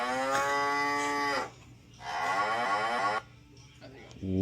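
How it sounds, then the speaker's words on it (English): Loud, close mooing from a cow alarm: two long harmonic bellows in succession separated by a short gap, followed by a quieter tail with a low steady hum underneath throughout. "It is a cow alarm."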